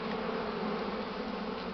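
A swarm of honeybees of a local mixed breed hums continuously, a dense steady drone that is loud and close with no pauses.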